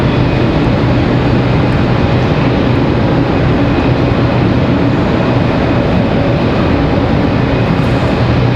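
An Air France airliner moving at Raleigh Durham airport gives a loud, steady jet roar with a constant engine whine, unbroken throughout.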